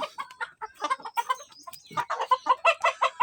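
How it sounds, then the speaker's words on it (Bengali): Excited chickens on a poultry farm cluck and squawk loudly and close, a busy overlapping run of short calls with a brief lull midway before the clucking picks up again. "আমাদের মুরগিগুলো অনেক লাফালাফি এবং চিড়িচিড়ি করতেছে বা তারা উত্তেজিত হয়ে গেছে।"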